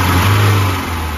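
A car engine revs up loud and close as gas is applied during an antifreeze change, a steady low roar that builds briefly and holds with no talk over it.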